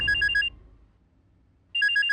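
A phone ringtone plays two bursts of rapid repeating electronic beeps, one at the start and one at the end, with a quiet pause between them and no talk.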